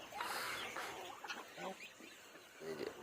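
Chickens cluck in short soft bursts while being fed grass among ducks and geese, a few scattered calls at moderate distance, faint and partly under a quiet voice.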